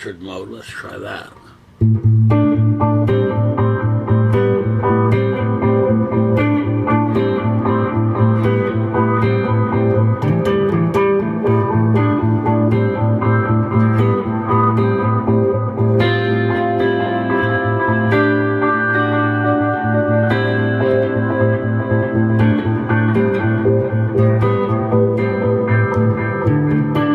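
An electric guitar played through an inexpensive delay pedal set to filtered delay mode rings out in sustained notes and chords, with darkened repeats trailing behind each phrase; a brief noisy handling sound precedes the playing.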